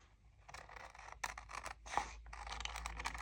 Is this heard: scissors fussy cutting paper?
yes